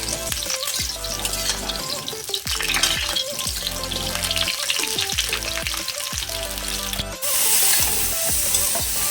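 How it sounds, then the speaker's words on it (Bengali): Cauliflower sizzles and crackles steadily in hot oil in a kadai, with a brief scraping stir and a louder burst of sizzling near the end. "কড়াতে দিয়ে দেবো তেল, দিয়ে ফুলকপিগুলোকে আমি ভেজে নেব।"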